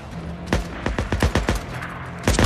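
Gunfire in the video game Days Gone, a series of sharp, close, separate shots in an uneven rhythm, each one punchy and distinct over a low game background.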